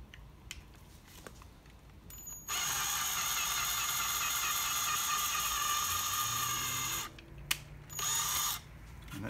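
A drill bores a mounting hole while reboxing a Nintendo Switch AC adapter, a steady high whine that runs for about four seconds, then stops and briefly restarts, close and loud with no talk.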